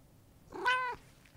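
A single clear cat meow, close and fairly loud, rising and falling over about half a second against a quiet room.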